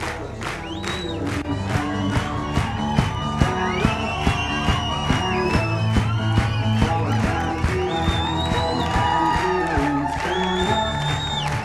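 An audience claps and cheers to welcome a speaker onto the stage. The applause is loud and sustained, with whoops rising over it and music playing underneath.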